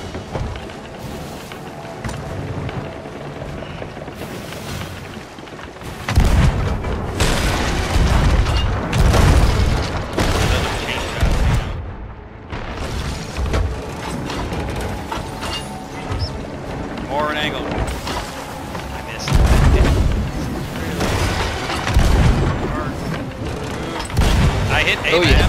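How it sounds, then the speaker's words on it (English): Ship cannon fire in the pirate game Sea of Thieves, heavy deep booms landing in several loud bursts over a constant roar of sea and wind, with players talking throughout. "Got a chain shot. I'm out of all cannonballs."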